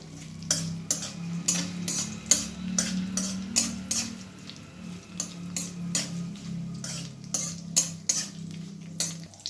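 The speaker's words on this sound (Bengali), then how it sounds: "দিয়ে আমি ভালোভাবে নাড়াচাড়া করলাম" Dried chillies, bay leaf, cinnamon and cardamom stirred in a pan for a cabbage curry, a metal spatula tapping and scraping in a steady rhythmic series of sharp clinks over a low hum, near and moderately loud, no voices.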